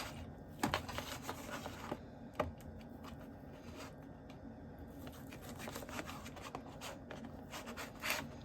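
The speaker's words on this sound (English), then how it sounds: "I'm going to cut it into kind of small little square pieces" A knife cutting ham into small square pieces on a cutting board, faint scattered taps and scraping strokes at an irregular pace, quiet and close with no talking.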